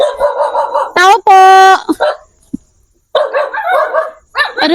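Several dogs bark and yip in short, loud bursts nearby, with a whimpering, rising whine among them, while a person calls out over and between the barks during a thunderstorm.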